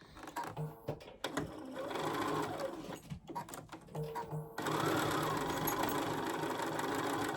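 A sewing machine runs in steady mechanical bursts while stitching a penguin gift card holder, pausing briefly around the middle and then resuming louder and continuous toward the end.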